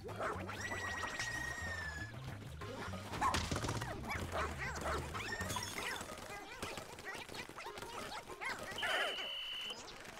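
Dog creature in Pikmin 4 waking during a night expedition by a quiet shore, giving rough barking and growling calls amid busy game music and effects, fairly loud throughout.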